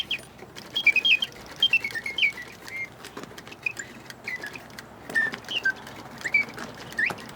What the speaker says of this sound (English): you can hear when the bellows are in full function how strongly the birds can sing